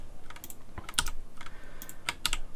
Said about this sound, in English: And if I click Control F